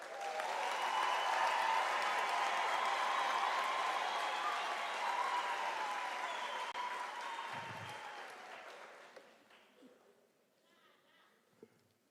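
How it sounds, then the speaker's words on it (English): Audience applauding graduates at a University of South Africa autumn graduation ceremony in an auditorium, sustained crowd clapping that gradually fades out, with a few cheers or voices mixed in. "let us give the graduates a thunderous round of applause"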